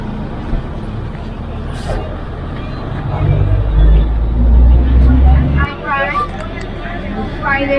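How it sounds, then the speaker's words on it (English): A bus bound for Tepic, Mexico rumbles close by at idle, its engine swelling louder for a couple of seconds before dropping back, with traffic noise and people talking nearby. "And this is the bus to Tepic."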